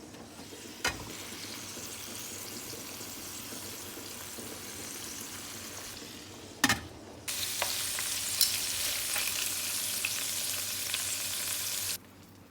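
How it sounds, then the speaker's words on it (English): Karela bitter gourds stuffed with beef qeema frying in oil, a steady sizzle with a few sharp clatters, swelling into a louder, fiercer hiss midway before dropping off abruptly near the end. "Now fry them. Fry till golden brown."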